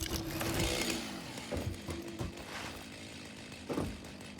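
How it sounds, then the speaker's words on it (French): A chainsaw in the video game Satisfactory drones steadily at low volume, its engine note shifting and revving slightly with a few clunks along the way. "Alors du coup j'ai une tronçonneuse."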